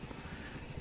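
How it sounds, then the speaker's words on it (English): Steady rotor and engine drone of a helicopter in flight in the video game Battlefield 2, a continuous even whir with no breaks. "Obviously, I'm flying a helicopter"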